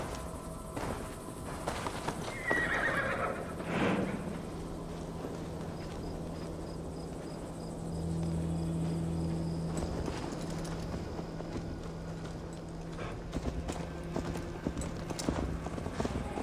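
Horse hooves clip-clop steadily under a rider in the Viking-era game Assassin's Creed Valhalla during an escort quest, a continuous mid-distance trot mixed with ambient game sounds and faint background tones.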